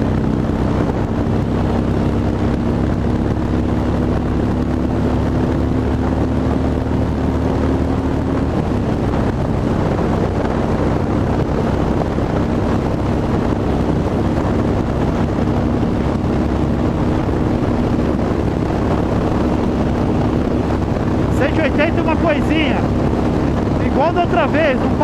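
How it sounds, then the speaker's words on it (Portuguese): Harley-Davidson Dyna Super Glide motorcycle accelerates hard toward top speed in fifth gear, its engine a steady low drone buried under heavy rushing wind noise for the whole stretch. "Joguei quinta marcha e acelerei."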